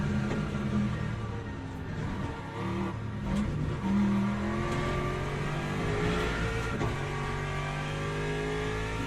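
A Vantage race car in Le Mans Ultimate, driven at Monza, revs hard and shifts through gears, its engine tone sweeping up and down in a continuous loud drone with a brief tire squeal.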